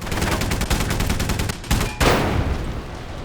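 Rapid automatic gunfire from the Xbox 360 shooter Rogue Warrior rattles loudly for about a second and a half, followed by a few heavier blasts and a rumbling boom with no talk over it.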